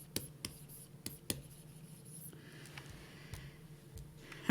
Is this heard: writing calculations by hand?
yes